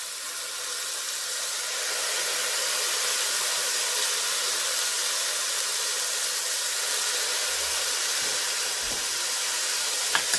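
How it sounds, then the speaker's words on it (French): Steady broadband hiss and sizzle as two tablespoons of white vinegar hit hot risotto rice in a pan, rising slightly and holding for about ten seconds, with a few faint clinks near the end and no talk. "on va venir ajouter 2 cuillères à soupe de vinaigre blanc"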